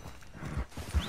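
Horse hooves clop in a video game, a few soft muffled thuds in a short quiet stretch with faint background sound.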